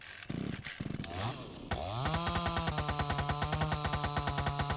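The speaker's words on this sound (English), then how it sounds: "I think I just destroyed my chainsaw" A chainsaw runs in the Mist Survival video game, starting after a rough burst and settling into a loud, buzzing, rapidly pulsing drone with no voices.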